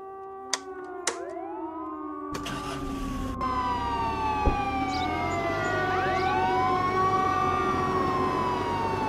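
A wailing police car siren in the video game Contraband Police, with sweeping tones that rise and fall continuously, loud and steady over a rumbling vehicle engine, with a few sharp clicks at the start.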